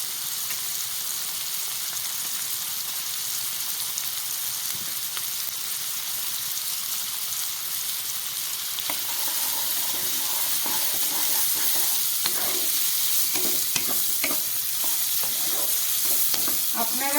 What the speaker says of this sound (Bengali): এবার দিয়ে দিচ্ছি আমি পেঁয়াজ কুচি